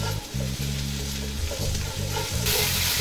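Mushrooms sizzle in a frying pan while being stirred, with repeated scraping strokes of the utensil against the pan over a steady frying hiss, close and fairly loud.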